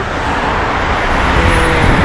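Continuous road traffic near the sea in Salmiya, Kuwait, cars rushing past one after another with no gaps, a steady loud roar of engines and tyres up close.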